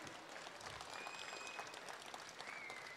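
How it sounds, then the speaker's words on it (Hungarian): A crowd at a cosplay show in Győr applauds the cosplayers, sustained even clapping throughout with a few faint whistles cutting through the steady noise. "Akkor még egyszer egy hatalmas tapsot kérek szépen az összes cosplayersünknek."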